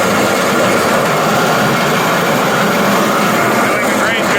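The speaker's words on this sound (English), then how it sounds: "Now we're going to put them into the oat flaker." A Simple Tek oat flaker rolls a buyer's sample of oats into flakes, giving a loud, steady mechanical roar and rattle that runs unbroken throughout, with no pauses or change in pace.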